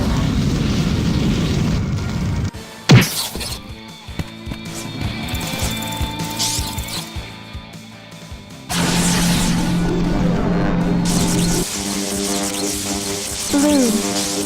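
A fire attack strikes a mixed group of enemies in a Grandia 2 battle in Ghoss Forest East, with booming blasts, a sharp crash, swells of roaring flame and scattered impacts over battle music.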